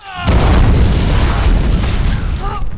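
A dynamite blast goes off inside a desert mine in a B-grade slasher film. The loud boom hits suddenly and is followed by a long, dense roar of rumble and debris that fills the rest of the clip.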